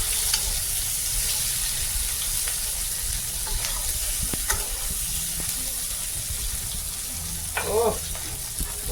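Bhetki fish bones frying with tomato in a curry pan, a loud continuous sizzle with stirring scrapes and occasional clinks, close by with faint background voices.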